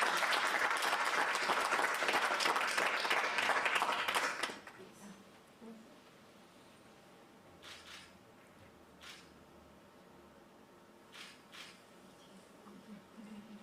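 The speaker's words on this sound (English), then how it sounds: "Can we give Professor Adékambi a round of applause?" A burst of enthusiastic applause from a crowd at a professorial inauguration fills the first few seconds, then drops away to a quiet room with faint scattered sounds.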